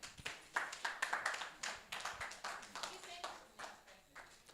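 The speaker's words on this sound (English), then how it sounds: "Please clap for him." A crowd at a startup pitch event applauding with a steady patter of many hands clapping, fairly faint and slightly distant, continuing for several seconds.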